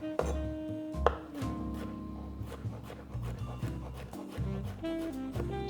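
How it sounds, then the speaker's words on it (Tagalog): A knife chops cucumber into small cubes on a board in quick, uneven strokes, close and clear with no talk. "Then you just cut it into small cubes."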